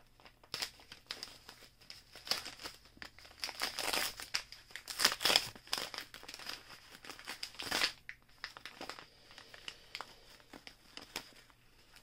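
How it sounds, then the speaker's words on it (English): Tape being pulled and picked at on a toy package, with scattered bursts of crinkling and scratchy tearing at close range, uneven and fairly quiet overall. "I can't get the damn tape off."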